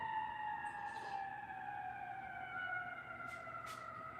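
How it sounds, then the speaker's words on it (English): A wailing fire engine siren sweeps steadily across the whole stretch, heard at a moderate distance with faint background noise and a few brief higher chirps. "That's the fire engine."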